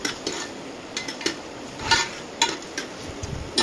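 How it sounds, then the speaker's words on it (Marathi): Onion frying in oil for chicken biryani, a soft, steady sizzle under a series of light metallic clinks and scrapes from a spoon against the pan, close and fairly quiet. "आणि हा असा कांदा फ्राय होत आहे."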